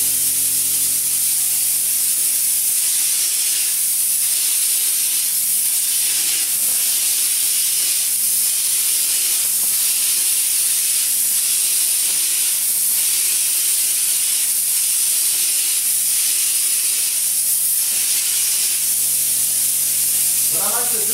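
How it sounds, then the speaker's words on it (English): A texture sprayer hisses steadily as it coats a drywall joint with a thicker layer of texture, a continuous close spray running unbroken the whole time with a faint tonal hum beneath it. "then I would do like the first spray, put it a little bit thicker down this joint"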